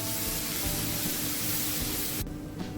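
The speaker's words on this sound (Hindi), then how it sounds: "ये मैंने अदरक और मिर्ची, हरी मिर्ची का पेस्ट बनाया है वो डाल देंगे और इसको हल्का सा भून लेंगे" A masala of ginger and green chili paste frying in a pan gives a steady, bright sizzling hiss that stops abruptly near the end, leaving quieter background.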